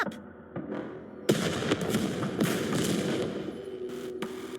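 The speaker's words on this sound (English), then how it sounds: "It's gonna blow itself up." A Rapture's self-destruct explosion in the game NIKKE, set in a snowstorm: a quiet stretch, then a sudden loud blast followed by a sustained, crackling, rumbling roar.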